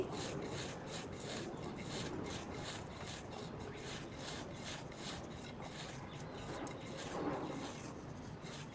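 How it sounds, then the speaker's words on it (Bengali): Dried jackfruit seed peels are rubbed into powder by hand, producing a rapid, rhythmic rasping scrape repeated many times at close range, fairly soft, with no talk. "এই যে দেখো, হাত দিয়ে ঘষে ঘষে মিহি করে পাউডার করে নিচ্ছি।"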